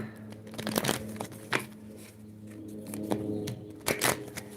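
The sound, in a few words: shuffling tarot cards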